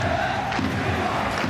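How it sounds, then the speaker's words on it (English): A live crowd at an esports football tournament roars and cheers continuously, a dense, loud wash of voices filling the whole space without a break. "enjoying this live crowd."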